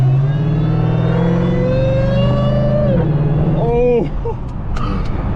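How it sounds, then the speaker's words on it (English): A Dodge Charger with a supercharged Hellcat 5.7 engine accelerates, its supercharger whine rising steadily in pitch over the engine roar before dropping off as the revs fall, with a voice exclaiming over it near the end. "I don't know how well that the whine is gonna pick up in the camera"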